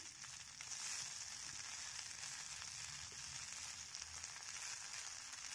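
Steady, crackling sizzle of green chilies and drumstick leaves frying in hot oil, close and continuous with no talking.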